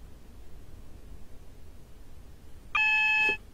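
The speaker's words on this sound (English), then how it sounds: "The alarm for what is now a double yellow again." A short steady electronic tone sounds once in a Train Simulator 2016 cab on a Class 319 train, a signal warning alarm for a double yellow, heard clearly above a quiet background hiss.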